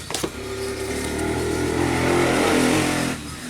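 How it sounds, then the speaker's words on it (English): A dirt bike engine revs nearby, a loud steady drone that swells higher before cutting off abruptly. "Someone's on a dirt bike."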